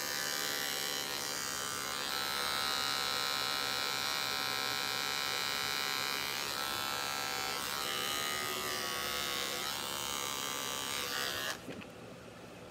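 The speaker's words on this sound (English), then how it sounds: "I'm going to shave the bottom of her foot, and I'm going to use a 10 blade on her." Electric dog clippers fitted with a 10 blade shave the hair from a dog's paw pad, giving a steady, loud, close buzz that runs for about eleven seconds before cutting off abruptly.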